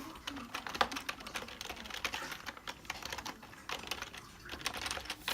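Rapid, steady keystrokes on an affordable RGB LED mechanical keyboard with brown switches, heard fairly quietly and close with irregular clicking bursts and no voices.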